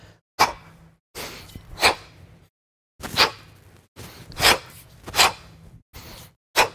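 Repeated forceful breaths in a steady rhythm during a kettlebell clean and press, each sharp exhale bursting out between brief silences, close and effortful.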